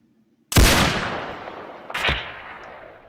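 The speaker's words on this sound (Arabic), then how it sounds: "شوف قوة طلقة." A loud, sharp rifle shot cracks and echoes away, followed by a second, slightly softer shot about a second and a half later, out in open air while hunting Himalayan tahr in the Himalayas.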